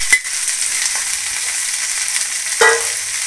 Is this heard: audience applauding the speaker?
no